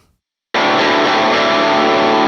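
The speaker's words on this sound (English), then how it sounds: "maybe I just need to kick it up to the distortion mode" After half a second of silence, a loud, thick distorted electric guitar chord through an MXR Duke of Tone pedal in distortion mode bursts in and sustains with a saturated buzzing roar.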